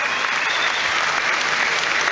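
A rugby league stadium crowd at St Helens against Leeds Rhinos roars and applauds for a veteran, a dense, continuous wall of clapping and cheering with no let-up.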